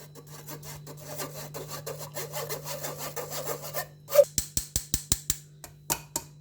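Curd is pressed through a metal sieve to whisk it for raita, making a continuous scraping rasp that turns into a series of sharp, regular scrapes and clicks, close and fairly loud, with no speech.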